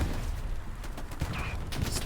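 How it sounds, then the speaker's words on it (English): Machine gun fire rattles in the war video game Hell Let Loose, a dense mix of rapid bursts and scattered shots, loud and close, with a commentator talking over it. "MG fire"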